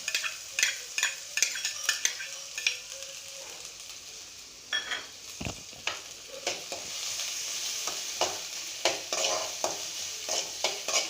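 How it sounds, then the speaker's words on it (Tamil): Sliced onions hit hot oil and are stirred for a potato nugget snack, producing a loud sizzle with repeated rhythmic spatula scrapes and clatters against the pan, a sharp knock midway, and no speech. "ஆயில் ஹீட் ஆனோடனே நம்ம ஸ்லைஸாக சாப் பண்ணி வச்சுருக்க ஆனியன்ஸ் ஆட் பண்ணுறோம்."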